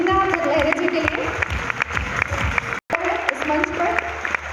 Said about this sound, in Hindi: जोरदार तालियां लीना लहरे जी के लिए